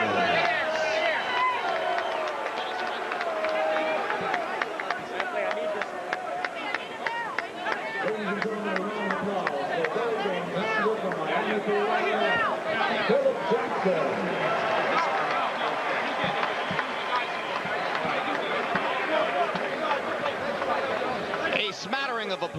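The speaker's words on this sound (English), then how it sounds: "A smattering of applause from the largely American crowd for the English heavyweight champion" A largely American arena crowd after a heavyweight boxing bout ends in a TKO gives scattered clapping within a continuous murmur of crowd noise, and a commentator talks loudly over it throughout.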